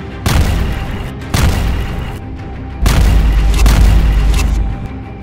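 Loud explosions from an Israeli airstrike on Hezbollah in Lebanon: three or four heavy booms, each followed by a long rumbling roll, with no voices.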